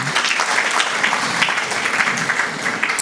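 A church congregation at the Tanzania Assemblies of God Dar es Salaam International Church claps together in dense, steady applause that stays loud and even throughout, with no voices standing out.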